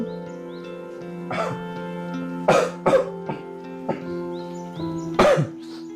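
A person coughs in several harsh bursts, some in quick pairs, close to the microphone over a steady tonal background hum.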